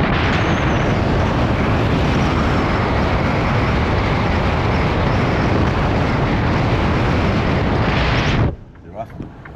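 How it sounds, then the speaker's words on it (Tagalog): Strong wind of about 80 km/h roars outside a truck cab during blowing snow, a loud continuous broadband rush that holds steady for about eight and a half seconds before cutting off abruptly to quiet. "Lakas ng hangin."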